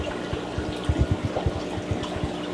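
Water drips from a hanging PVC pipe elbow into a container in a DIY fish-raising setup, a quick irregular run of close, distinct drops and small splashes over a quiet background.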